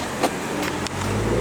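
A BMW F30 340i pulls away with a steady engine drone that swells in the second half, heard close, with brief higher bursts and no talk.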